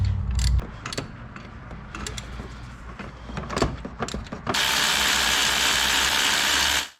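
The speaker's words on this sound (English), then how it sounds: "I'm gonna start loosening up this alternator." Hand tools loosen the alternator bolts on a 2017 Hyundai Accent, with scattered ratchet clicks and metallic ticks up close, then a loud steady hiss takes over until the end.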